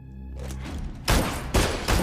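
Gunfire in a scene from the TV show Wolf Pack: after a low rumbling lead-in, three loud, sharp bursts of shots crack out in quick succession over about a second.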